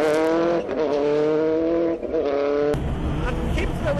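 A Subaru Impreza rally car at the 2003 Eurocables Stages Rally revs its engine hard with a steady droning note, then launches from the start line into the opening stage with a sudden, louder roar.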